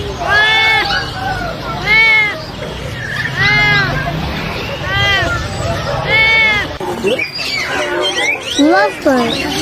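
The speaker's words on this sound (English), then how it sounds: "Lovebird." A lovebird gives a run of loud, repeated harsh squawks and chirps, close by and steady across the whole span, with no talking heard.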